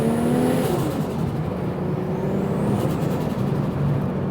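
A wide-body RWB Porsche 911 Turbo pulls hard under boost, its engine note rising and sustained with a whooshing turbo rush, heard loud from inside the car and without talk.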